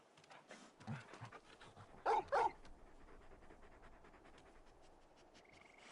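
Torgal, the dog companion in Final Fantasy XVI, pants and huffs softly in a quiet game scene, with two brief louder breathy bursts near the middle.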